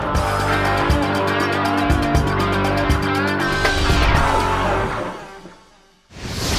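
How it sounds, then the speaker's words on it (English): NASCAR trucks racing at Daytona, a loud, dense roar of engines and tire noise with high whining tones, swelling, then dropping away sharply before another burst returns at the end. "Truck racing."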